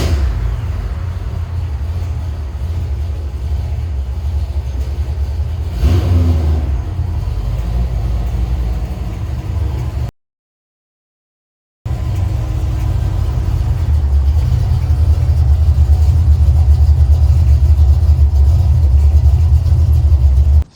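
A U-Haul race truck engine rumbles steadily at close range, with a brief swell in intensity partway through, then cuts out for a moment of silence before idling back up loud and continuous.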